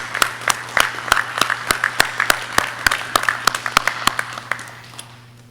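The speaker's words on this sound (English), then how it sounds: "would like to give all of you and all of you listening out in the or out on the internet a round of applause, please." Audience at a police academy pinning ceremony giving a round of applause, with sharp, distinct claps in a steady patter over a low hum that thins out and fades near the end.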